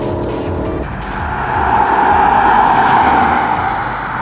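A Lexus IS250 with a 204 hp 2.5-litre engine, six-speed sequential automatic and rear-wheel drive is driven hard through a chicane on a race track. The engine note is close and steady, swelling as it revs with tire noise.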